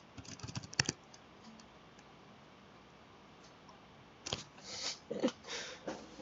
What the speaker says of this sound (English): I'm typing in there to see